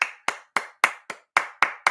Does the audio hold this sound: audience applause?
yes